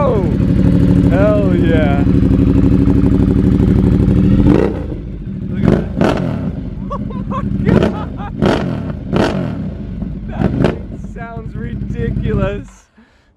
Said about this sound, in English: that's a V-twin Ducati 1200, and it sounds as good as it looks